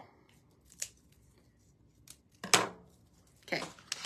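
Craft material cut down with scissors while making a sitting scarecrow: three or four separate, close, crisp snips spaced about a second apart, with quiet pauses between them and no talk.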